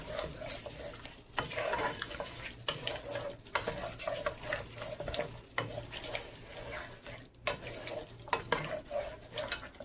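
Meat and spinach, for palak gosht, are stirred and fried in a pot, giving a steady sizzle broken by repeated scraping stirs, fairly close and moderately loud, with no one speaking.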